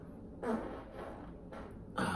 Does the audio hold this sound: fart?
yes